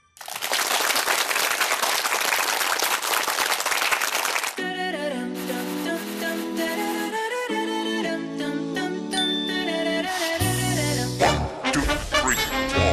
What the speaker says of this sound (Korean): 그럼 박수로 강연 청해 듣도록 하겠습니다